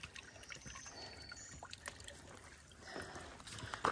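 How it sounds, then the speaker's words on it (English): Water trickles and dribbles faintly from a tiny mountain source along the Peters Mountain ridge, a soft, irregular gurgle heard close up with light rustling and no speech. "Oh, there's a little bit of water down in there. Down a little tiny water source."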